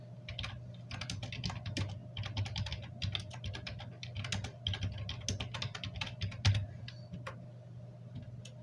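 Steady, rapid typing on a computer keyboard, a continuous run of light clicking keystrokes close to the mic over a low constant hum, with no voices.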